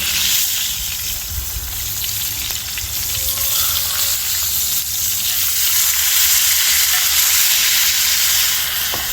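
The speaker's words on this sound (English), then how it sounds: "We're just going to add some, or try to add some butter to the top." A ribeye steak sizzles steadily in a cast iron pan while butter is spooned over it, a dense, continuous frying hiss close up with no voices.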